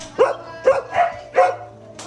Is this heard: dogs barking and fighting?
yes